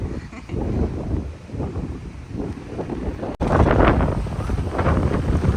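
Strong gusty wind at the Baltic seaside in Palanga buffets the microphone, rumbling and swelling in waves, growing even harsher in the second half.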